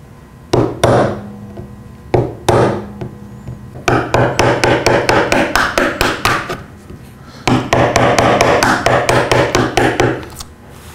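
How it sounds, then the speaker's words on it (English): A standard half-inch wood chisel is struck repeatedly to cut a roughly 5/16-inch-deep hole in wood. There are a few isolated sharp blows, then rapid runs of close, loud, evenly paced mallet or hammer strikes. "Got the hole all chiseled out."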